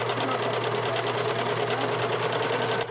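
A sewing machine stitches fabric face masks in steady rapid pulses, running continuously and close up throughout, a group of mothers in Greencastle, Indiana sewing masks during the pandemic.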